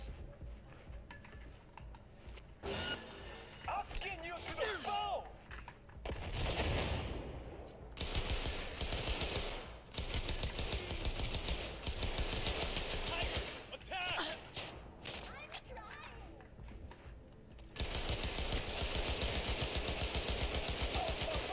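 Video game gunfire comes in repeated sustained automatic bursts with mechanical clatter, loud and continuous across a long stretch, broken by short pauses, with a voice talking in the background at times.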